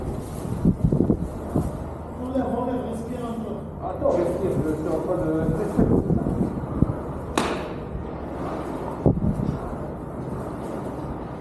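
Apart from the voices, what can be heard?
wind of a heavy sandstorm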